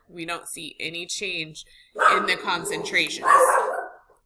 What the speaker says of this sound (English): Sorry about my dog.